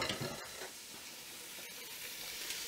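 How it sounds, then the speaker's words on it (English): Chorizo sizzles and hisses steadily in a hot pot, a dense, continuous frying crackle heard close up with no talk. "if I'm over here, you can hear the sizzle"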